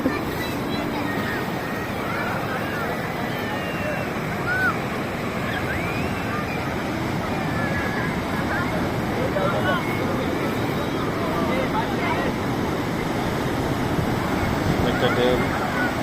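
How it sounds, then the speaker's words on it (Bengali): Sea waves rolling and breaking along a beach, a continuous washing surge with gusts of wind buffeting the microphone, steady and fairly loud throughout, with no distinct voices. "একটা ঢেউ"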